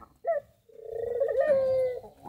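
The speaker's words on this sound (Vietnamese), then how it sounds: "con trống gáy như thế này" A male spotted dove coos up close, a short note followed by a long drawn, wavering call, loud and alone.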